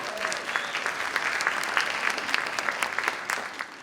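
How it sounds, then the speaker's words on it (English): A crowd at a winter carnival queen's pageant applauds warmly for the volunteers at the front windows and doors, a dense, sustained wash of clapping that holds steady throughout. "Big round of applause for them"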